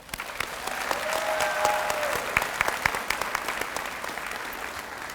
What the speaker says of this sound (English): Please join me in a round of applause for the people who will invest countless hours in us over the next few